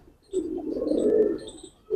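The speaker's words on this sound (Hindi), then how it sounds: "तो ये देख सकते हैं आप, ललसरे कबूतर।" Lalsara pigeons coo in a low, rounded murmur that swells and holds for over a second, then fades and returns at the end, close by and without other sounds.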